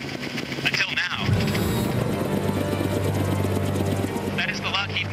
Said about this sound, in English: That is the Lockheed Martin K-MAX helicopter, one of the world's first autonomous helicopters